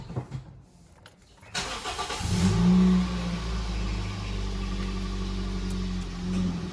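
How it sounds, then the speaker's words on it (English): A 2014 Toyota Vios in hot weather cranks briefly and catches, its engine flaring to a loud rev before settling into a steady, close idle hum. "let me start the car"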